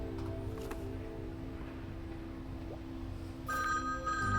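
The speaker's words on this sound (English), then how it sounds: "the sharp shrill of the phone." A shrill electronic telephone ring sounds in a video game, entering near the end over a low steady hum of background music, bright and repeating.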